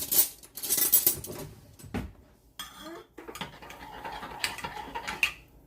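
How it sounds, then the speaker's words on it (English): Italian chicken sandwich ingredients being stirred together in a slow cooker at home, with scattered clinks and scrapes of a utensil against the pot, busier bursts at the start and softer intermittent clatter after. "Now we're gonna go ahead and mix this all together."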